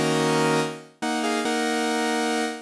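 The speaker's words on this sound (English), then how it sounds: "they've layered a very harsh sawtooth wave underneath." A harsh, buzzy synthesizer patch built in Pigments with a sawtooth wave layer sustains a bright tone, cuts off abruptly, then restarts with a new chord that rings on and fades, with no voices.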